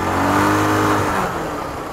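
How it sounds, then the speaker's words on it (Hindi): Motorbike engine revs loudly up close as it is pulled into parking, a steady rumbling drone that eases slightly toward the end, with no talk. "पहले बाइक को हम पार्किंग में लगा देंगे"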